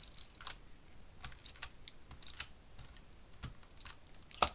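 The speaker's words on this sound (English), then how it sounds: "So let's just put a little tape runner on that." Tape runner dispensing adhesive onto a handmade Christmas card, a quiet series of soft clicks and short scratchy rolls, close and sparse, ending with a sharper tap.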